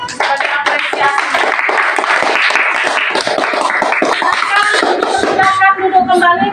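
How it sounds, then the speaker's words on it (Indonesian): Classroom applause for a group of students who have just presented, with a burst of uneven hand clapping mixed with children's chatter and voices throughout. "Kelompok 1 kita beri tepuk tangan dulu sebagai apresiasi"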